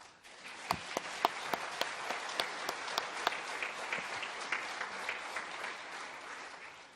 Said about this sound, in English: Let us give an applause.